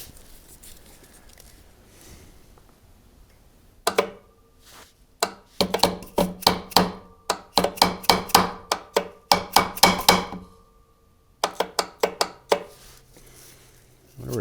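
Sharp metallic knocks on an old, unused Rolls-Royce crate engine that is stuck: a quiet stretch, then a fast run of loud, close, irregular hammering blows, a short pause, and another burst.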